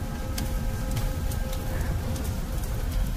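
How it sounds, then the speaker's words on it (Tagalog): Rain falling outdoors at the Manila Film Center, a steady dense hiss with scattered patter that continues evenly throughout, without clear speech. "Umuulan pa kasi"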